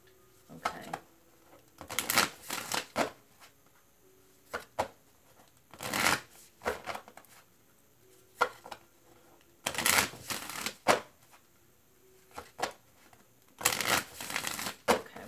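Oracle cards being shuffled in several separate bursts of riffling and flicking, each lasting about a second, with quiet gaps between them; the sound is close and moderately loud, and no voice can be heard.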